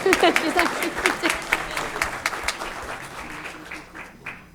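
An audience at a school board meeting applauds an absent middle school student, with lively clapping and a brief voice at first, then the clapping gradually thins and fades.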